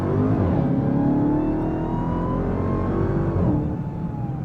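A Dodge Charger Hellcat engine roars steadily and close, its deep rumble rising and shifting in pitch as it revs and pulls hard.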